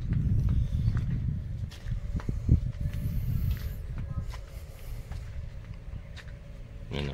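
Native goats walk into a pen, their hooves clopping and shuffling in an irregular patter close by, with a few knocks and a brief rattle near the end.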